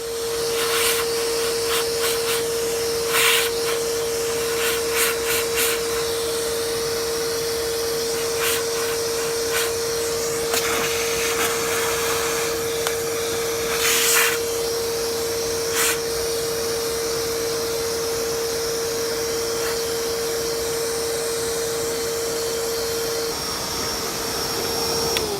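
A vacuum cleaner runs steadily with a constant tonal whine as a brush attachment cleans dust from a car's air filter housing, with intermittent scraping and rubbing bursts over the drone, close and loud.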